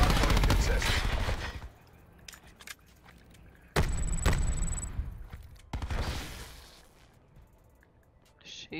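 Gunfire in the Call of Duty Black Ops 4 video game, loud bursts of rapid shots cutting in and out over a few seconds, with game sound effects between the bursts.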